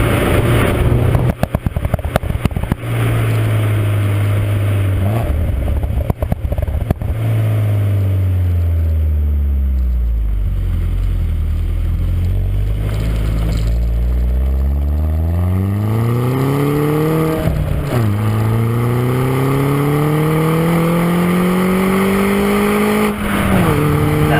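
A John Cooper Works Mini Roadster's exhaust growls and rises through revs on a wet road, with gear changes and repeated accelerations heard from inside the cabin, loud and continuous.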